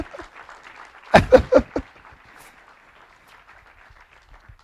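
A church congregation in Cahors bursts into a short round of applause, loud for under a second, between a preacher's spoken remarks in French.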